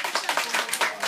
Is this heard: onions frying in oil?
no